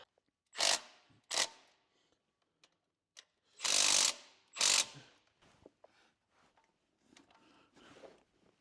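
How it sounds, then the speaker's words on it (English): A low-torque impact wrench works on a Cadillac 500 engine during a swap, firing in short, loud, close bursts: two quick rattles, a pause, then two longer hammering runs, followed by faint clicks and handling noises. "This is a very low torque impact, so I'm not worried about over torquing stuff."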